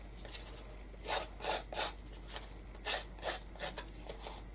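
Repeated scoring strokes across embossed cardstock made with a Cuttlebug Cogs embossing folder, a series of short close scratchy rasps in irregular pairs and clusters, with no talking.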